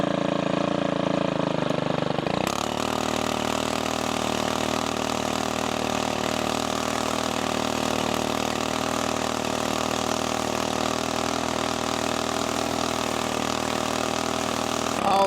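A gas-powered lawn edger works along rock beds, its small engine running loud and steady at throttle after a brief quieter start, continuous for the whole stretch with no talk.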